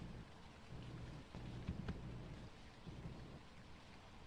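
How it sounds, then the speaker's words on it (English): Steady rain with low rumbling thunder outside in the Phasmophobia ghost-hunting game, a constant soft wash of rainfall with a couple of deeper rolling swells. "The problem is it's also raining outside"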